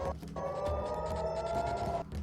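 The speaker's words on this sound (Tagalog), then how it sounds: "Hanggang umaga, umalingaw-ngaw ang mga sirena." Air raid sirens wail across Israel during a missile attack, a sustained steady tone that holds for about two seconds amid a dense, noisy background, loud and continuous.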